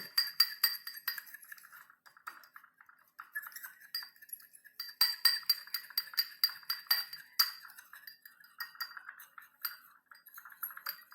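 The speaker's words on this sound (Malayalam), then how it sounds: "ഇങ്ങനത്തെ സ്പൂൺ കൊണ്ട് ഇളക്കുന്നത്" A spoon stirs a powder mixture in a bowl, giving quiet, rapid clinks and light scraping in uneven bursts against otherwise near-silent surroundings.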